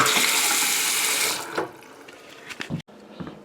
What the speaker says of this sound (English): Turning the water back on.